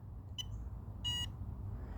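An RC speed controller gives a short electronic beep, then a slightly longer, buzzier tone a moment later, both clear against a quiet background hum while its settings are adjusted.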